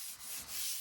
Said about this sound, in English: let's start by sanding them down